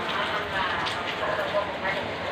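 Light drizzle falls ahead of a typhoon, a soft, steady patter of fine rain on surfaces with faint crackling drops, while people talk over it.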